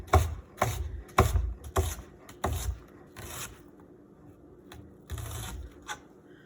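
A kitchen knife cuts an onion into thin strips on a board, giving a run of crisp, evenly spaced chops close by that slow and thin out toward the end.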